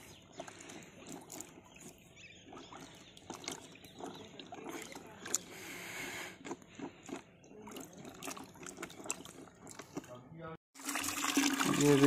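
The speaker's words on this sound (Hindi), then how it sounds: "गाजरें धोने का तरीका ये पापा ने दिया है, छोटी लाठी, इसको ऐसे घुमा के अच्छे से" Freshly picked organic carrots are washed in muddy water and stirred round with a small stick, giving irregular splashes and sloshing knocks, ending in a louder rush of pouring water, while a person talks.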